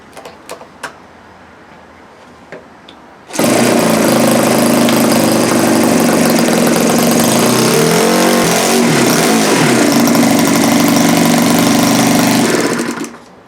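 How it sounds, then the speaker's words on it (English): O.S. FS-120S III four-stroke model aircraft engine starts after a few faint clicks and runs loud and steady for about ten seconds with a brief change in pitch, then cuts off. "so it needs a little bit of tweaking on the low speed or the mixture, but other than that, it seems to run perfectly"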